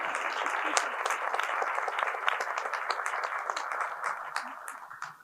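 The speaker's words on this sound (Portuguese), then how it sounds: "Palmas para o público." Audience at a design talk applauding together, a steady dense wash of clapping that carries on at full strength for several seconds before tapering off slightly at the end.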